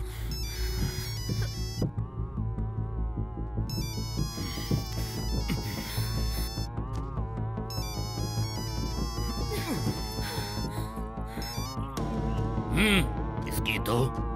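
A phone rings unanswered in a Hindi action film scene, its melodic ringtone repeating steadily over a dense background score for the whole stretch.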